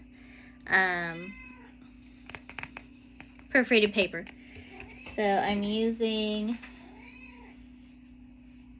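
A cat meows loudly several times, long drawn-out cries, while a person talks in between and paper rustles nearby.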